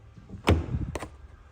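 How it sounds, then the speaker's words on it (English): A soft-closing door on a 2024 Mercedes-Benz GLS450d AMG Line Premium Plus SUV pulls shut with a single muted thud, followed by a light click of the closer latching, close by and fairly quiet. "Got door closers."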